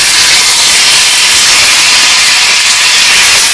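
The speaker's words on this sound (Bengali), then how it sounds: "টমেটোগুলো এর মধ্যে দিয়ে দেবো।" Chopped tomatoes hit hot oil in a cooking pan, producing a loud, continuous hissing sizzle that stays steady and close throughout with no voices.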